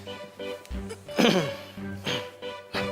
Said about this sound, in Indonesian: Keselak? Kenapa? Batuk?